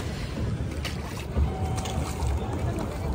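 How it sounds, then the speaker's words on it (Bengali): Boat ride on Nainital lake: steady engine rumble and water wash with wind buffeting the microphone, continuous and close, with voices talking over it. "মোটামুটি তো আমরা এক্সপিরিয়েন্স করলাম এই বোট রাইডের।"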